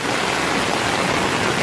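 Floodwater rushes along Nebraska Avenue in Palm Harbor after heavy rainfall, a loud, dense, continuous roar of flowing water close by with no pauses.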